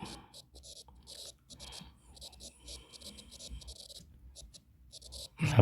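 A teacher writing a formula by hand on a sheet, with scratchy pen or marker strokes coming in short rhythmic bursts. The strokes are close and fairly quiet, with a soft voice faintly underneath.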